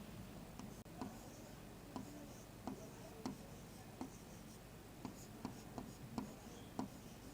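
A pen or pencil scratches out an answer on paper in a quiet room, with soft rhythmic strokes and light taps repeating at a steady pace.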